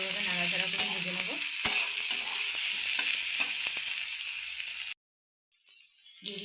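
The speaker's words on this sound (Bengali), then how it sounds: "গাজরগুলো দিয়েও খুব ভালোভাবে নাড়াচাড়া করে ভেজে নেব।" Finely chopped carrots fry in a pan and are stirred steadily. The close, hissing sizzle is broken by scraping strokes, then cuts off abruptly near the end before faint noise returns.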